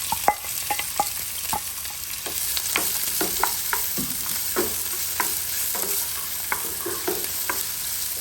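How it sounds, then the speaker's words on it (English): Chopped onions frying in oil in a pan, with a constant close crackling sizzle and frequent light taps and scrapes from stirring throughout, no speech. "Just want this onions to caramelize a little bit before I will add the butter"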